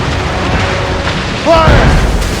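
A ship fires a cannon volley in an Assassin's Creed Rogue naval battle, giving a booming burst near the middle over steady roaring sea and combat noise, with a voice shouting briefly.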